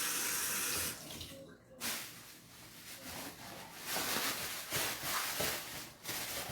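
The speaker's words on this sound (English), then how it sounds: "Rinse out my spoon." A spoon rinsed under a running kitchen tap, with a steady hiss of flowing water and short splashing changes as the spoon moves through the stream, heard alone and close.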